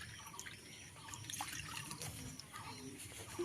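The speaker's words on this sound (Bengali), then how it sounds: "তাই এই বাটির 2 বাটি জল দেব।" Water poured from a bowl into a pan while making ripe jackfruit candy, a faint trickling and splashing that is quiet and close.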